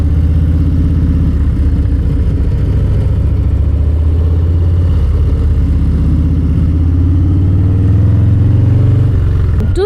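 A motorcycle with chopped saddlebags rumbles steadily while riding, its loud, close engine drone continuing throughout with a slight rise in pitch near the end as it goes over a bump.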